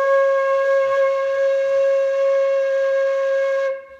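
A long, unbroken note blown steadily on a wind instrument during a lesson on tonguing technique, holding one bright pitch with rich overtones for nearly four seconds before it cuts off cleanly.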